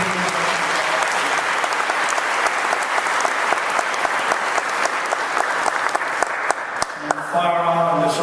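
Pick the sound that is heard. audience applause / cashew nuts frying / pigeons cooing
audience applause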